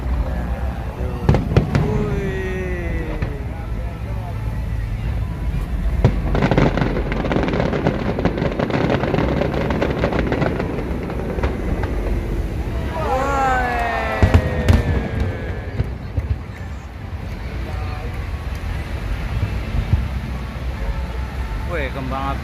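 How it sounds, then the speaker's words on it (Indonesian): A fireworks display at Monas in Jakarta: a long stretch of rapid crackling, booming bursts and rising whistles over a steady crowd murmur, with nearby voices talking at times. "Wih, kembang api udah mau 5 menit."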